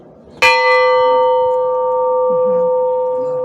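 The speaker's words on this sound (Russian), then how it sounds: "Это перезвон, который выполняет еще одну функцию." A large Easter church bell is struck once loudly and up close, its bright clang settling into a long, pure humming tone that rings on and slowly fades.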